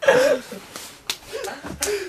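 A single sharp slap between people drinking, a brief crisp smack amid laughter and short voices nearby.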